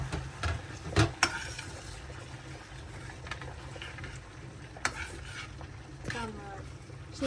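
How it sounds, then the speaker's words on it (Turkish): Sucuk sausage and eggs are stirred in a frying pan, with close scraping and clinking of a utensil against the pan over a soft sizzle and a few sharper knocks, while a person talks faintly. "Şimdi şunları şöyle karıştırıyoruz."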